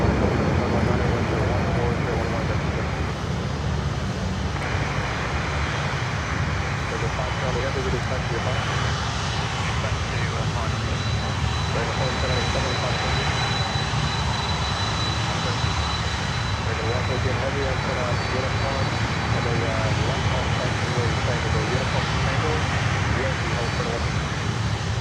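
A Maersk Air Cargo jet's engines roar at Miami airport, a loud, continuous rushing drone that stays steady throughout while a voice talks over it.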